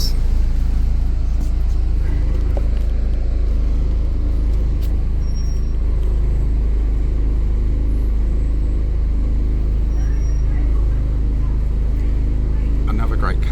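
A 1964 Routemaster bus rolls through central London streets with a loud, unbroken low engine and road rumble close up, and voices talk over it.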